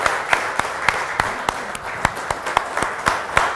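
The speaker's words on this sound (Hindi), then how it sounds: "तालियां बहुत जोरदार होनी चाहिए" An audience at a silver jubilee award show in Chitral claps in steady, evenly spaced beats, a rhythmic applause that carries on throughout.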